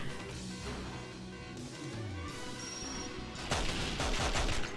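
Gunfire in the James Bond shooter 007: Nightfire, a steady barrage of loud sharp shots over game music and ambience, growing denser and harsher toward the end.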